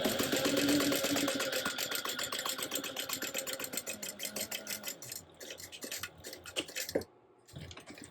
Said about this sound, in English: Now we will go ahead and top stitch along these creases that you just created at 1/8 of an inch away from the edges